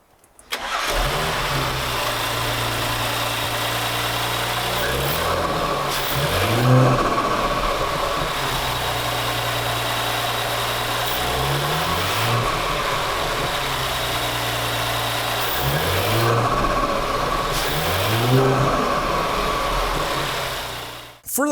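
Audi B9 S4 with its 3.0L V6 TFSI engine and a 034 Motorsport P34 intake revs repeatedly over a steady idle, with several loud rising-and-falling revs spaced through the clip and no talking.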